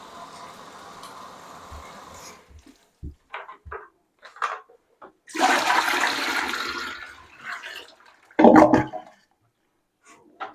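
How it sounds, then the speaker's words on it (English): A toilet flushes nearby after water is poured in from a bucket, with a loud rushing gush of water, preceded by some clattering and small knocks, then trailing off. "pour it in the toilet, and flush it"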